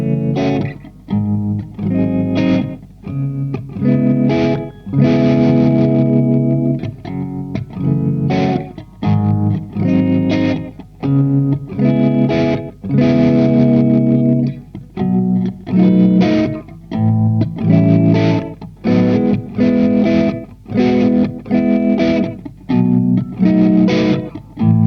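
Gretsch G5210T-P90 electric guitar with P90 pickups strumming a series of chords in a gritty, slightly overdriven tone; each chord rings out loud and full before the next, in a steady rhythm with no talking.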